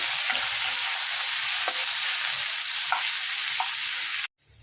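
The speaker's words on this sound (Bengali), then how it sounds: "আমি হলুদ দিয়ে ঢ্যাঁড়সটাকে ভেজে নিচ্ছি" Continuous hissing sizzle of okra frying with turmeric in hot oil, with occasional light pops and stirring clinks, ending abruptly.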